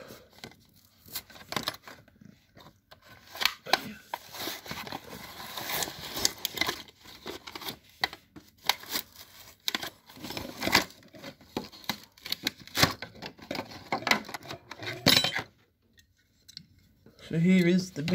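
A plastic blister pack from a Mattel Disney/Pixar Cars 3 toy is cut open with an opener, giving close, irregular snipping, crinkling and tearing with a pause near the end.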